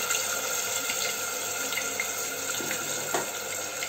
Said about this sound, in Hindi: देखिए पटक रहे अंदर, आपको आवाज आ रही होगी, ये देखिए उछलते हैं